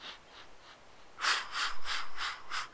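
Steady Pilates breathing, in through the nose and out through the mouth, with a few soft breaths followed by a louder, quicker series of sharp rhythmic exhales, close and alone.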